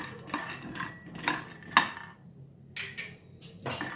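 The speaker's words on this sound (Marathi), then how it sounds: "आता आपण शेंगदाणे घेऊया आणि ते एकदम मंद आचेवर मिडियम आचेवर आपण ते भाजून घेऊया" Peanuts dry-roasting in a pan over medium heat, heard as sparse clinks and scrapes of a utensil against metal with quiet gaps between the strokes, close and fairly soft.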